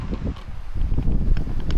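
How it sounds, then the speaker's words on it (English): Strong wind blows outdoors near woods, recorded by an action camera with its wind reduction switched off, making a loud, constant low rumble and buffeting against the microphone. "It is very windy out today."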